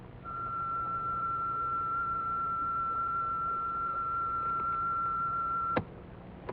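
Underwater current flowing steadily and slowly over tall anemones in calm water, recorded as one unbroken, fairly low, sustained tone over a soft rumbling hiss that ends with a sharp click.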